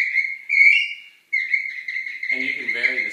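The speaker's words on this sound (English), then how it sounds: "So I call this a bird roar." A handmade bird roar, a disc spun whirling against the air, gives off shrill, wavering whistle-like chirps in close bursts, with a short gap before the whirring tone resumes and rougher buzzing layers join near the end.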